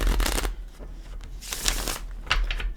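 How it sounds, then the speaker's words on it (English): Tarot cards from a Gilded Tarot deck being shuffled by hand close to the microphone, three bursts of riffling and flicking with short pauses between, no talking. "Give it a shuffle."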